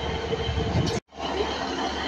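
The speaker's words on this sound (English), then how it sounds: "I think this will be the Barry Island train." A train for Barry Island rumbles at a station platform with a steady roar of engine and wheels, broken by a brief sudden drop to near silence before the rumble resumes.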